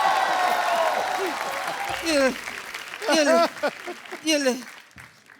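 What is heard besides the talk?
audience applause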